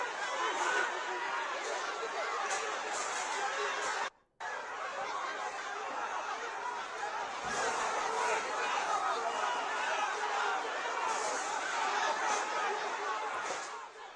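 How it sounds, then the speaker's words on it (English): A Meira Paibi crowd in Manipur chatters steadily as a dense wash of many voices, with scattered laughter. The sound cuts out briefly partway through. "This is the Mera Paibis crowd."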